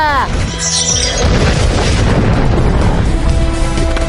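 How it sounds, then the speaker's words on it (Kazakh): A combined ice and fire attack erupts in an animated battle as a loud iceberg-eruption effect: a descending whoosh, then crashing, shattering booms and a dense rumbling roar, with a voice calling out over it. "Мұз және жалын біріккен жабуылы. Айсберг атқылауы."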